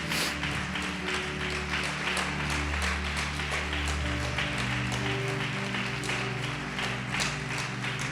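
Church congregation applauding during a worship service, a dense sustained wash of many hands clapping, steady and fairly loud throughout, with organ or keyboard chords sounding underneath.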